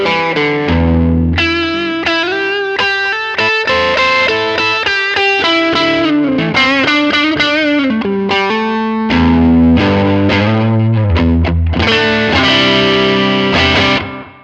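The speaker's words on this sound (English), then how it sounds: "So here is the Klon Centaur from the HXFX." Overdriven electric guitar through a Klon Centaur-style overdrive pedal on a Line 6 HX Stomp, playing chords and single-note lines with a warm, mildly gritty tone and a touch of echo, steady and loud throughout.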